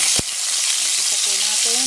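Garlic frying in a spoonful of cooking oil, a bright steady sizzle up close, opened by a sharp knock and followed by faint scraping, with no speech.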